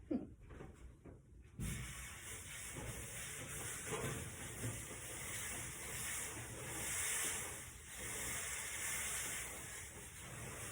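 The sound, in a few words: sizzling in a hot oven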